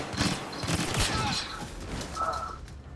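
Rapid turret gunfire in the Star Wars Battlefront video game, a dense burst of repeated blaster shots near and loud, with a player's voice talking over the game noise.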